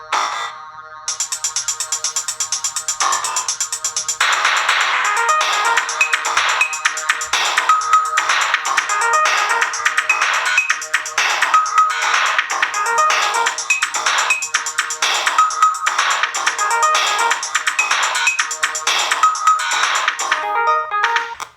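Demo music playing on a PiMiga 4 emulation setup, a bright, busy chiptune melody with steady rhythm running continuously at full volume, alone.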